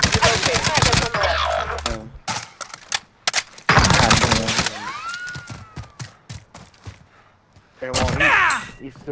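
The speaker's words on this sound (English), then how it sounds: "Why are you shooting at me?" Bursts of automatic gunfire from the video game Warzone, with rapid rattling volleys and pauses between them, under excited player voices talking.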